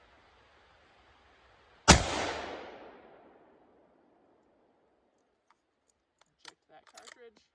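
A single rifle shot during target shooting, one sharp loud crack followed by a decaying echo, then faint clicks and handling noises of the firearm; no talking.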